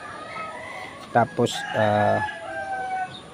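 Imported hens and a rooster kept for breeding cluck in short bursts and let out a brief crow, fairly close, with faint background noise and a single spoken word.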